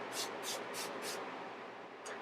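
Wet n Wild Photo Focus setting spray pump spraying unevenly and spitting globs, four quick close hissing sprays in a row, then a pause and one more short burst.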